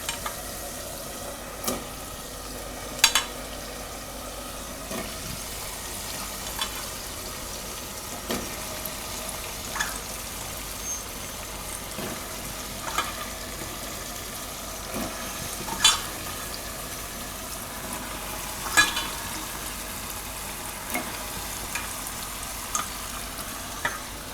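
Potatoes fry in a pan with a soft continuous sizzle, broken every few seconds by scraping stirs and clinks of a spoon against the metal, close and fairly quiet, with no talking.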